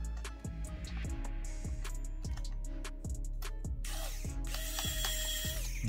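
Screw being loosened inside an HP 22-3160na all-in-one PC with a ratcheting screwdriver: a steady run of close, crisp ratchet clicks repeating at an even pace, about seven in a row, with no talk.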